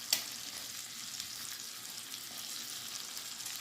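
Potatoes and carrots frying in butter and olive oil, a soft, even crackling sizzle that opens with a sharp tap, then stays quiet and steady throughout with no talk.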